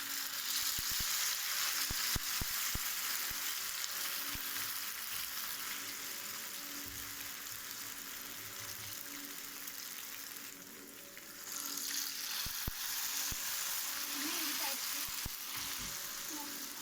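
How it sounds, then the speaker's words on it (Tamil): Spiral tornado potatoes fry in hot oil at home, a steady, close, hissing sizzle that runs throughout with occasional small pops and clicks from the pan. "அடுத்து நம்ம எண்ணெயை சூடு பண்ணிவிட்டு இதை பொரிக்க ஆரம்பிச்சிடலாம்."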